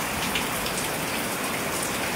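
Steady monsoon rain falling on a surface, a dense even hiss of drops with no pauses and no voices.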